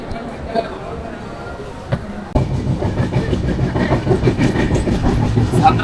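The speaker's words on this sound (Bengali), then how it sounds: "সাঁতরাগাছি স্টেশন থেকে 2 মিনিট দাঁড়িয়ে এবার কিন্তু ট্রেন বেরিয়ে পড়েছে তার যাত্রাপথে দ্বিতীয় স্টেশন উলুবেড়ি।" A train departs Santragachi station on the Howrah to Digha route; after a quiet start a sudden onset of rumble and rhythmic clickety-clack of wheels over rail joints builds steadily and stays loud.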